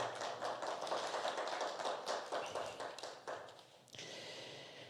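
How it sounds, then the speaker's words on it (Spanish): Applause from a festival audience at the Festival de la Canción Ayacuchana, greeting a judge as she is introduced; dense, steady clapping for about four seconds, thinning out, then a brief change to a lighter room tone. "Un aplauso para ella."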